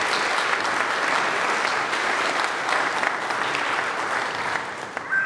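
Steady applause from a church congregation for confirmands fills the whole stretch, dense and continuous, with no talking over it.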